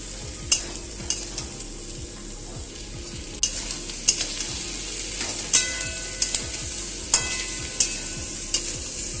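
Turmeric and ginger paste frying in fish oil, stirred with repeated scraping strokes over a steady sizzle, each stroke a sharp close clack against the pan.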